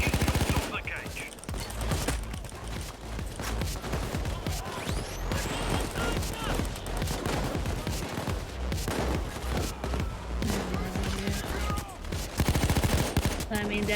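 Heavy gunfire in a PAYDAY 2 crime-spree heist: dense, continuous bursts of shots and automatic fire crackle nonstop for the whole stretch, with voices talking underneath.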